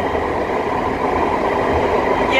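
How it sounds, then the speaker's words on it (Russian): A driverless metro train in Istanbul gathers speed, its steady rumble and rail noise filling the front carriage, loud and continuous, with the train running throughout. "Боже, смотрите, как он скорость набирает"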